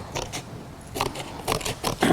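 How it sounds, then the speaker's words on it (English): Scissors snipping through a paper plate during a superhero craft activity, giving several short crisp scraping cuts in uneven bursts, fairly close and quiet. "So just be careful with the scissors."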